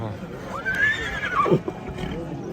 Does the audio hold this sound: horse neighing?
yes